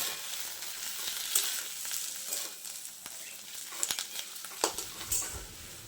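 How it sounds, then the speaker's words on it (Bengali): Egg paratha filling with fried peanuts sautéed in a pan, a continuous hissing sizzle up close with sharp clicks and scrapes of stirring, louder spatters near the end. "দিয়ে আবার আমি খুব ভালোভাবে 1 মিনিটের মতো কষিয়ে নেব।"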